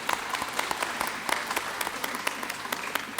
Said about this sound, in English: a round of applause and congratulations to all of you for coming here